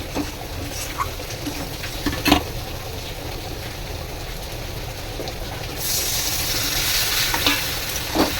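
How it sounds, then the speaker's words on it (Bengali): Water poured into fried spice masala in a pan for a potato and pointed gourd vegetable curry, giving a steady close sizzle and bubbling hiss that swells louder near the end, with occasional clinks. "মশলাটা ভাজা হয়ে গেছে এবার আমি এর মধ্যে দিয়ে দেবো জল"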